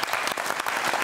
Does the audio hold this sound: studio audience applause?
yes